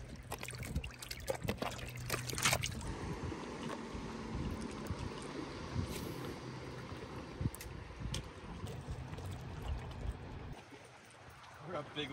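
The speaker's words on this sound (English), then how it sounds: "We got big waves coming in." Lake waves slosh and lap against a floating tent out in the middle of a lake, a steady close watery churning with wind, while people talk over it.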